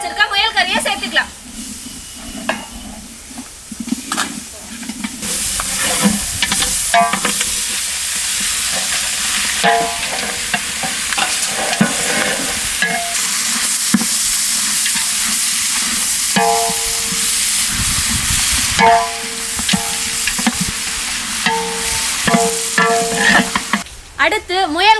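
Rabbit meat sizzles and hisses in hot oil with fried masala in a village kitchen, with steady frying broken by scraping stirs and a person talking over it.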